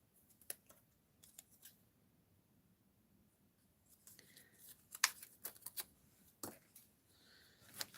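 Paper being cut with scissors for a card-making project using a Stampin' Up Let's Go Shopping set, heard as faint, sparse snips and rustles that grow busier toward the end, close by with no talking.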